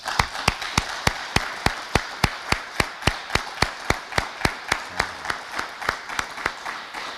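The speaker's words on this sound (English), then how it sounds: "Let's give all of them a big round of applause." Rhythmic applause at a fire department promotional ceremony: steady evenly spaced sharp claps, crisp and close, like one or a few people clapping in time rather than a dense crowd.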